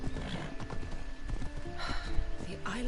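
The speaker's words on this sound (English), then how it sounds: "See, now they gave me a horse." Horse hooves clip-clop steadily in Assassin's Creed Odyssey on a Greek island, the rhythmic trotting carrying under game music and occasional character speech.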